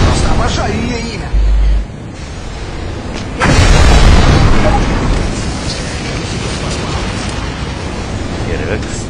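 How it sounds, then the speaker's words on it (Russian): Fireworks go off in the video game Left 4 Dead 2 during a New Year's night level. A loud boom lands partway through over a steady rumble of game noise, and muffled voices run underneath. "Фейерверк смешанный..."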